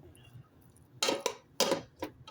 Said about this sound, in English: So I'm just going to keep chopping that.